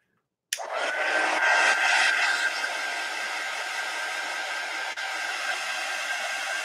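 A hair dryer switches on abruptly and blows steadily at close range, drying a watercolor collage with a constant loud whoosh and no speech.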